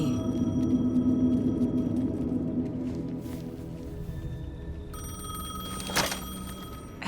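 A payphone rings in the video game Alan Wake 2, a sustained electronic ringing tone that fades into a hollow, echoing ambience, followed by a sharp chime near the end.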